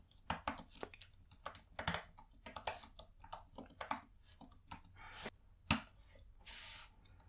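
A password is typed on a computer keyboard, with irregular bursts of close, crisp key clicks and brief pauses between them, quiet and without talk.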